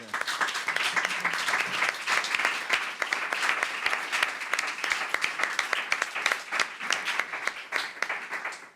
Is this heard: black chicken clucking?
no